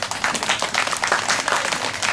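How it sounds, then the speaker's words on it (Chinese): A school-event audience claps warmly to welcome a speaker, a dense, steady burst of applause that fills the whole moment without letting up. "我们用热烈的掌声欢迎杨主任"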